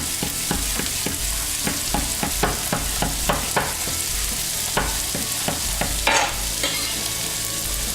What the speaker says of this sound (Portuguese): Adoro cebola e alho fritando